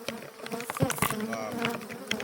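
Bees swarm close around an open hive, a loud rising and falling buzz with individual insects zipping past near the ear.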